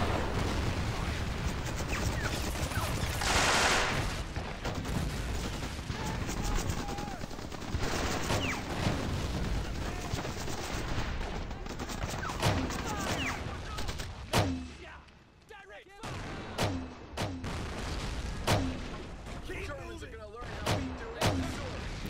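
Dense, rolling gunfire and booming explosions fill a World War II battle in the strategy game Men of War: Assault Squad 2 at a Peleliu airfield, with voices heard now and then over the din.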